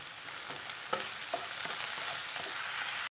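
Curry leaves crackling in hot coconut oil alongside onions, ginger and garlic for a prawn curry, a steady close sizzle with a few sharper pops and stirring scrapes throughout.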